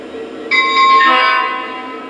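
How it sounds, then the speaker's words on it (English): Lionel Legacy SD40-2 model locomotive sounds two bell dings and a quick horn toot, bright tonal chimes rising over a low background hum, close and clear, with no talking. "The locomotive will tell you it's entered sequence mode by 2 dings of the bell and a quick toot of the horn."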